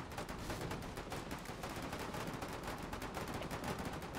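Dense, continuous machine gun fire from a tank battle game rattles without pause, loud and rapid, with no voices over it.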